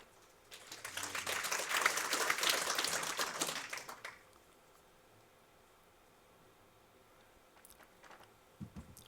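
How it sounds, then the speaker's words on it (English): A home crowd applauds at an indoor bowls match at an international open, a warm burst of many hands lasting a few seconds before fading into quiet hall ambience. "Warm applause from the home crowd"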